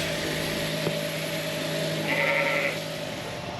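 Sheep bleat during crutching, as wool is trimmed from their rear ends, against a loud, steady background drone. One brief call stands out partway through, and no voices are heard.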